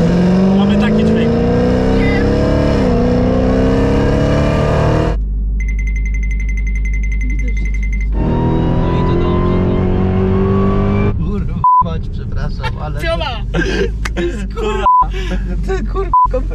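A supercharged 808 hp Dodge Hellcat Redeye roars and revs hard while accelerating, with a loud rising engine drone heard from inside the cabin. Passengers talk and exclaim over it, and gear-shift gaps break the roar near the end.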